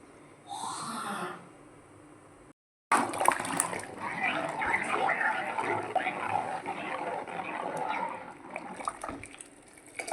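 Water pours and splashes steadily into a container of tamarind to soak it for several seconds, following a brief spoken voice and a short pause.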